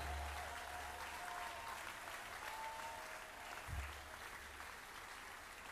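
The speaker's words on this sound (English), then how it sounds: "Clap until they get here." A church congregation claps steadily during a service, a continuous wash of applause heard from a distance and fairly faint.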